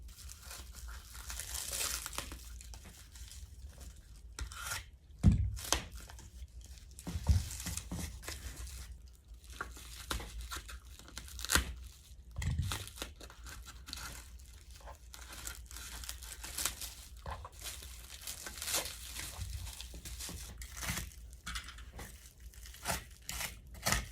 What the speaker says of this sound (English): Remove the cardboard packaging at the spliced sections.